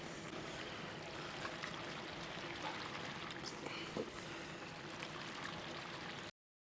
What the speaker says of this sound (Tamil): பிறகு தண்ணி ஊற்றிக்கலாம்